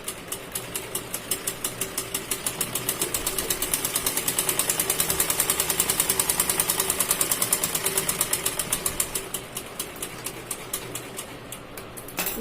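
A sewing machine runs steadily while stitching a blouse, a rapid even needle clatter that swells slightly in the middle and eases toward the end, close and continuous without talk.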